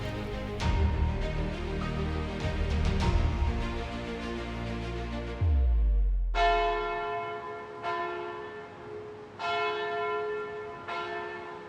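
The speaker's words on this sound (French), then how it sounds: "Les cloches ont sonné, annonçant Pâques" Easter church bells ringing out, a busy peal of overlapping strikes followed by slower, single resonant tolls that hum and fade between hits.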